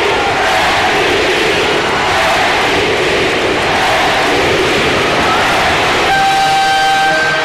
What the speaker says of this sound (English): This capacity crowd chanting,